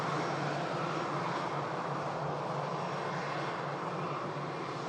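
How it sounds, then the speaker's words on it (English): Jet2 Boeing 757 airliner at Manchester Airport in stormy weather, a steady distant jet roar with broad rushing noise holding evenly throughout, no talk heard. "is that another Jet2 757?"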